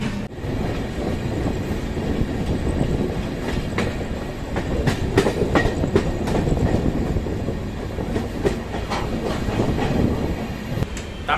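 Tamil Nadu Express passenger train rolling steadily out of Chennai Central, heard from inside the coach as a continuous loud rumble with rhythmic clickety-clack of wheels over rail joints and occasional sharper clanks.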